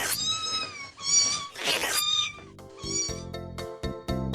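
Several kittens meow in high, repeated cries from a box, with a couple of longer overlapping mews and a burst of noisy hissing-like breath in the middle, close and fairly loud.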